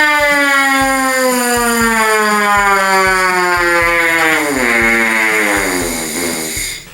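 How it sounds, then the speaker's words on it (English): A brass player buzzes a siren exercise, starting on a concert F and sliding down in one smooth, continuous glissando until the tone fades out, loud and alone. "start off on a concert F and gliss down as far as you can go without the sound stopping"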